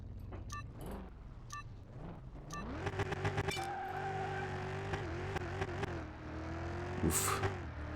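Race car driven on a track in Car Mechanic Simulator 2021, engine idling with short blips, then revving up and accelerating into a sustained drone with shifting pitch and a late tire squeal, fairly close.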